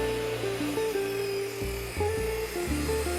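Table saw ripping a 2x4 into coaster blanks, its blade note dipping and recovering as the cut strains the motor, a steady loud whine throughout with no talk.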